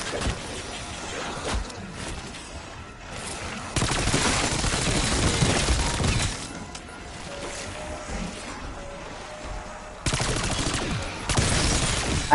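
Heavy automatic gunfire in Black Ops 6 Zombies comes in sustained loud bursts, pausing and resuming several times against a busy game background.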